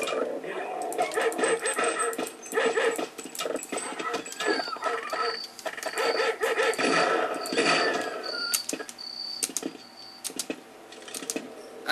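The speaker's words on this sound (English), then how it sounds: "Freaking dogs!" Dogs bark and snarl repeatedly with game sound effects in the Half-Life mod They Hunger, loud and busy, while a voice speaks over the commotion now and then.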